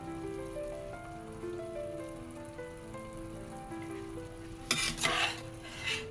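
A chicken carcass is lifted out of a pot of boiling broth for a Málaga-style puchero, with a bubbling simmer underneath and a brief splashing, dripping burst as it comes out, over background music.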